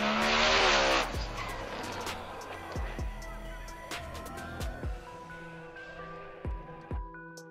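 A Ford Mustang drag car saving a big wheelstand at a street-car drag racing event, a loud engine roar and tire squeal at first, then fading into scattered squeaks and thumps.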